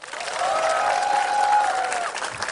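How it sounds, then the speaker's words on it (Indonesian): A studio audience at a comedy battle show claps steadily, building to a loud sustained round of applause that tapers slightly at the end, with a faint tone underneath. "Tepuk tangannya."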